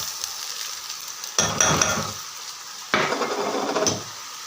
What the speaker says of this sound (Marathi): आणि यांना पण थोड्या वेळापर्यंत आपण तळू देऊ थोडं